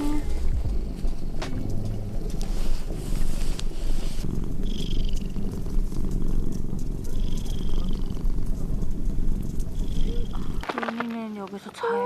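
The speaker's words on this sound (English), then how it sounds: "Can you hear the cat meowing?" A cat purrs steadily and close throughout, a low continuous rumble, with a few faint meows near the end while a person talks softly over it.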